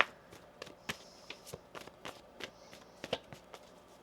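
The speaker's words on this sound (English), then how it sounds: "One more shuffle." Tarot cards being shuffled close up, a quiet series of sharp papery riffles and taps at an uneven rhythm with faint background between them.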